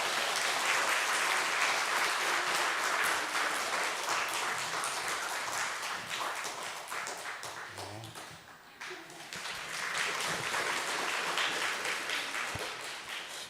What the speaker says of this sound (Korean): 다 같이 오신 걸 환영합니다 하는 뜻으로 박수로 영접해 주시기 바랍니다.